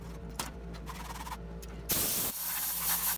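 Short hissing spray bursts of water hit rusty metal being scrubbed with steel wool, a loud close spray in the second half after quieter rubbing.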